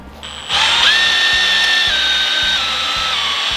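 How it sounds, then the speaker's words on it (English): A power drill spins up sharply and runs steadily at close range, its whine dipping slightly as it bores a pilot hole for a screw, with no one speaking. "I'm actually going to take my drill and drill a pilot hole into it"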